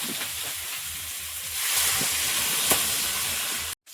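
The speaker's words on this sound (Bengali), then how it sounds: "কলাটা ভাজা হয়ে গেছে এবার এদিকে জল দিয়ে দেবো" Water poured into a hot pan of fried banana hisses loudly and steadily, a continuous close steam rush that swells midway and then cuts off abruptly.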